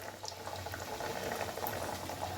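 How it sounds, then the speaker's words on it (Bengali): Homemade chicken cutlets frying in oil, a soft continuous bubbling and crackling sizzle that stays quiet and steady throughout, with no voices. "কাটলেট ভাজা হচ্ছে"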